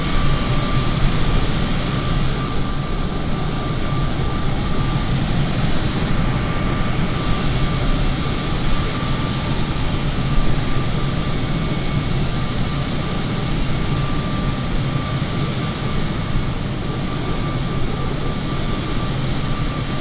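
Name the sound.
Bombardier jet engines during fast climb, flight simulator game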